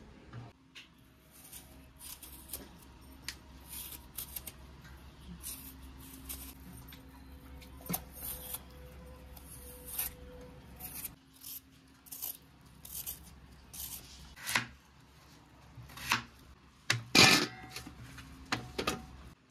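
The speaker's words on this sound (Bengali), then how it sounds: "তো চলো আগে আলুটা ছাড়িয়ে নিই।" A jumbo potato being peeled and cut by hand in a home kitchen, with soft scraping and intermittent crisp knife taps spread quietly across the stretch, a few sharper clicks near the end.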